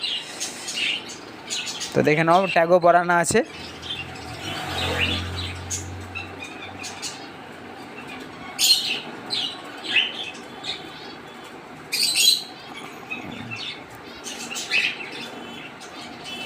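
Madras giribaz pigeons in a loft, a burst of wing flapping, scattered chirps and soft coos, with someone talking throughout at close range.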